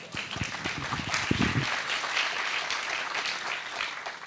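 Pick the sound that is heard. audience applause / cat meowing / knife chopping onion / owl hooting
audience applause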